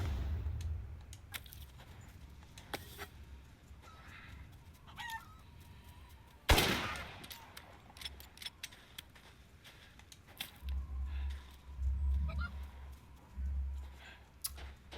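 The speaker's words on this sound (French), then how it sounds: "Il a rien demandé le pauvre poulet." A chicken clucks and crows in the horror video game Resident Evil Village, intermittent fowl calls over low game ambience with a sudden loud burst midway.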